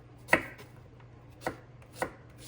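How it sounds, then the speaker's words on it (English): A knife dices an onion on a cutting board in a home kitchen, three sharp separate chops spaced unevenly over a low steady hum, close and clear with no talking. "I know there's a better way to dice an onion"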